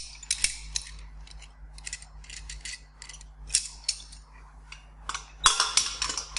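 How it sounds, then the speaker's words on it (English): A metal clamp is fastened on a 13-litre round still: a series of close, sharp metallic clicks and ratcheting ticks in irregular clusters, with a louder clatter near the end. "We attach that to the clamp."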